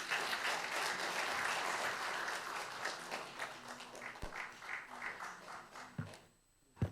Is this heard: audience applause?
yes